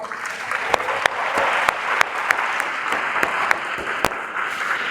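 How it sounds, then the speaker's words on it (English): A school hall audience applauds at an investiture ceremony, steady loud clapping from many hands with a few sharper individual claps standing out near the front. "I think they deserve a big round of applause."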